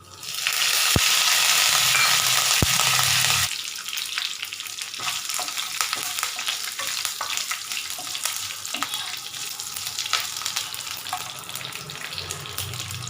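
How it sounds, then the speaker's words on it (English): Curry leaves frying in hot oil in a pan, a loud crackling sizzle at first that settles into a steadier bubbling fry with light stirring clinks, close and without talk. "Now the curry leaves have fried nicely"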